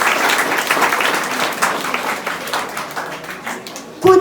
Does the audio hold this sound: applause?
yes